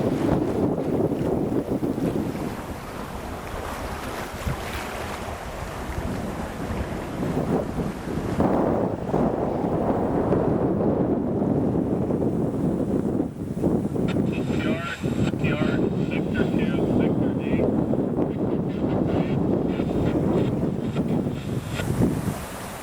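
Steady wind roars over the microphone aboard a sailboat with a big sail heading toward Obstruction Pass, a north wind, with water and hull noise beneath; a voice speaks briefly amid the continuous gusty rush.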